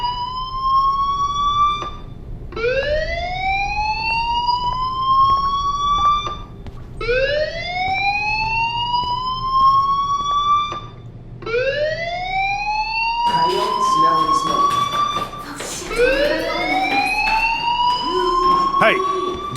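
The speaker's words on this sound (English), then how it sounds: "Hey, do you hear that fire alarm?" A fire alarm rings in the video game Life Is Strange as a loud, repeating rising whoop, about five sweeps that cycle steadily, with other game sounds crowding in over the last few seconds.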